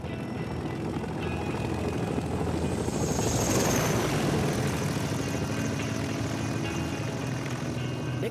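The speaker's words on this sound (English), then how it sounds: "Nicknamed the Flying Banana, this tandem rotor workhorse from the 1950s lifted troops and supplies at record speeds." A 1950s tandem-rotor transport helicopter known as the Flying Banana flies past with a dense, steady rotor and engine roar that swells slightly midway and holds loud throughout, with no voices.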